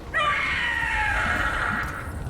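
A creature screams in Dragon Age: The Veilguard, a loud drawn-out shriek that starts abruptly and holds for nearly two seconds before cutting off, heard close and alone.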